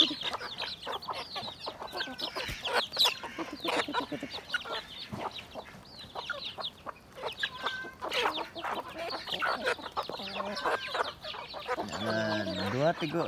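Several chickens cluck and call in the misty morning in the Crocker Range, with repeated close clucks and squawks, some louder bursts, and someone speaking intermittently between them.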